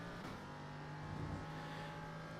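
A Ligier LMP3 race car in a racing game accelerating out of turn 1 at Daytona in dry conditions, a steady, fairly faint engine drone that holds constant with no talk.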